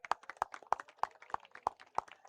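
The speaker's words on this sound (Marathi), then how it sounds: "जोरदार टाळ्या" A crowd claps at a prize distribution ceremony for the Great Maratha Sansthapak Chashak 2025 tournament, with steady, fairly quick claps and sharper, regular beats standing out, at a moderate level with no talking.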